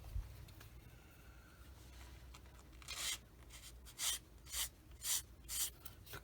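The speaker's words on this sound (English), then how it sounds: "I can use my sanding stick" A sanding stick rubs across a small plastic part from a Tamiya 1/35 Panzer 38(t) model kit, giving a series of short, close, quiet rasping strokes in a quick rhythm after a faint pause.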